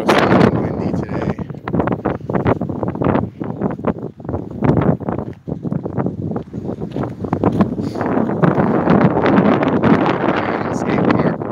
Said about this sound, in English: So dusty and windy today.